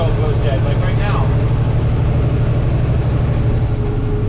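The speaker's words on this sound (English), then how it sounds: "I like when the engine brake sounds like a helicopter and a machine gun" A truck's engine brake drones in a loud, steady, rumbling pulse close by, with a brief voice early on.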